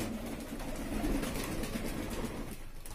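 Pigeons of breeds such as ambarsire, kalsire and lalmuhe coo softly and continuously nearby on an open rooftop, a low, murmuring flock sound with no voices.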